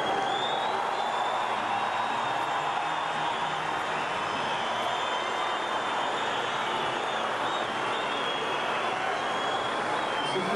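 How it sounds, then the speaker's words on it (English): Packed arena crowd of about 500 at the 1999 World Weightlifting Championships in Athens roaring and cheering for weightlifter Dimas, a dense, continuous wash of cheers and applause sustained throughout. "I think we're going to hear every single one of them cheering for Dimas"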